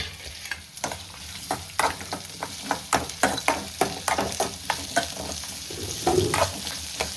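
Goat head meat masala fries and sizzles in a pan, stirred in a regular, close run of scraping clinks over a continuous hiss.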